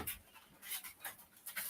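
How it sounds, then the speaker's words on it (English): Dogs waiting at a table for food pant in quick, breathy bursts with faint whimpering, close by and fairly soft, with no talking. "These dogs are so demanding."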